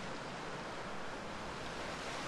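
Rushing waterfall in the Roller Coaster Tycoon 3 theme park game, a steady, dense wash of white water that holds at an even level with no breaks and no voices.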